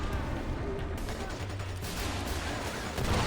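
Gunfire in Splinter Cell: Conviction, clusters of muffled shots layered in a constant game-combat din, moderately loud, with a player's voice briefly heard.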